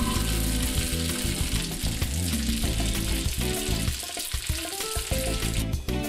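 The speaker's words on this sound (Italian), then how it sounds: "Copriamo con un coperchio e lasciamo cuocere a fiamma vivace per 5 minuti." Spaghetti frittata with olives and anchovies fries over a lively flame in a covered pan, giving a steady, close sizzle that holds loud for the whole stretch with no one talking.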